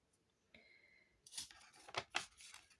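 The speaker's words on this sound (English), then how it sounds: "that knife did not cut through because I wasn't holding it right" A craft knife scrapes and tears at paper in a few short, rough bursts, close and fairly quiet, after a faint thin whine near the start, with no talking.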